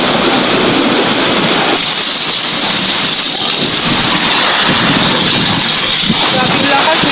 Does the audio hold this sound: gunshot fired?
no